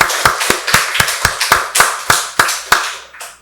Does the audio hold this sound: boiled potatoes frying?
no